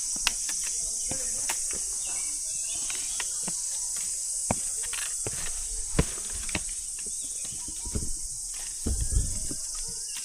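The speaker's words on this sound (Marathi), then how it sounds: "रातकिड्यांचा आवाज सकाळी सकाळी पण चालू आहे." Crickets chirp in a continuous high, steady drone on a rocky mountain ghat trail in the morning, with scattered footsteps, taps and brief rustles nearby.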